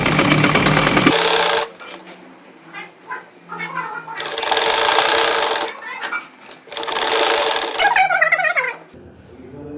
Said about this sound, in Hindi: इसकी यहाँ आउटर साइड पर हम सिलाई लगाएंगे।